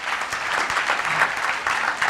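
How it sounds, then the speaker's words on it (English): Audience applause at a business event and book launch, a steady sustained clapping from a crowd that holds at an even level for about two seconds with no voices over it. "Give him a big round of applause."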